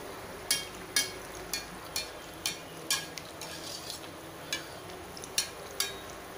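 Jaggery anarse frying in hot oil as oil is splashed over them, a faint steady sizzle punctuated by regular soft splashing ladle strokes roughly every half second.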